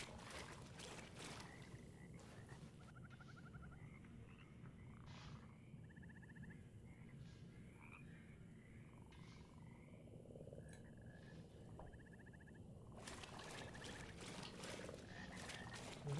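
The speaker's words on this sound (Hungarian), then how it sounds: "Jó, és akkor itt a béka." Frogs croak in the dark swamp of the video game Mortal Shell, a steady run of rattling calls repeated every second or so over a constant low ambient drone, with no talk.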